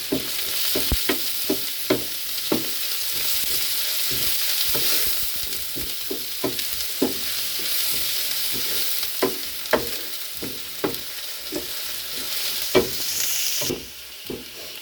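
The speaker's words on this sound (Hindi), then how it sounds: "प्याज को हमें गोल्डन ब्राउन होने तक फ्राई करना है।" Onions sizzle steadily in a hot kadhai, frying toward golden brown, while a utensil scrapes and clanks against it in irregular strokes, close and fairly loud.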